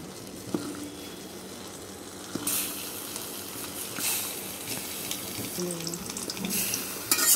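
Pointed gourds drop one by one into hot mustard oil. A soft background hiss jumps into a louder, crackling sizzle partway through and keeps rising, with a few light knocks from the pan.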